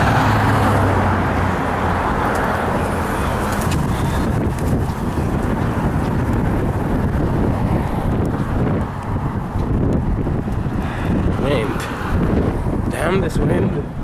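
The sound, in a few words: wind while walking by traffic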